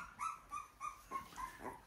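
Two-week-old puppies whimpering and yipping in a run of short, high cries, several separate whines close by with no talk.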